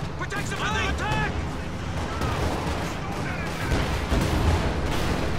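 An incendiary artillery barrage in a World War II strategy video game rumbles as a dense, continuous wash of booming impacts and crackling fire, with a caster talking over it almost the whole time.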